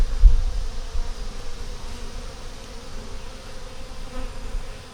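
Honeybees from a small swarm with an unmarked queen drone at the hive in a steady, close, continuous buzz, with slight swells and no talking.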